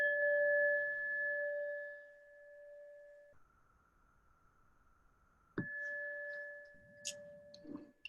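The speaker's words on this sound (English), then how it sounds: "I think I'll ring this little bell here." A small hand bell rings out twice with clear sustained pure tones, the first strike decaying over about three seconds and a second strike following, with faint light clinks near the end and no talk.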